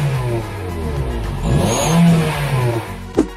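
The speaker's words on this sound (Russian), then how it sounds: "Во время увеличения оборотов двигателя насадка издает похожий на турбину свист." A turbo whistle attachment on a car exhaust gives off a whine as the engine revs up, with the pitch climbing and falling over the engine note. A sharp clack sounds near the end.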